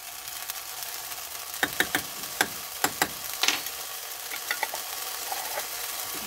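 Garlic frying lightly in a pan over lowered heat, with a steady soft sizzle and several sharp clinks and scrapes of a utensil stirring against the pan.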